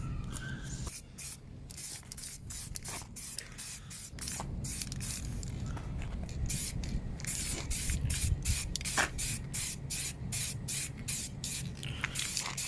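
Spray paint hisses onto a wheel in a long run of short, close bursts with brief gaps between them.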